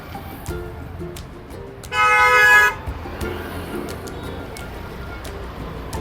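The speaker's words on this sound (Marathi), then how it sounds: "बघू शकता ट्रॅफिक फुल आहे" Busy street traffic on a road in Latur rumbles steadily, and one loud car horn blares for under a second in the middle.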